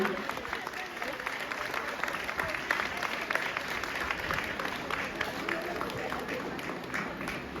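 Loud, dense applause from an audience at an AWPL (Asclepius Wellness) Ruby Star event, steady clapping for the full length with crowd noise and some voices mixed in.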